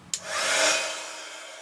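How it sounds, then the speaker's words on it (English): A heat gun blowing to curl a die-cut paper flower starts with a click, then roars into a steady, loud rush of air that softens slightly as it continues. "I'm going to put the heat gun on. Now it will get very noisy"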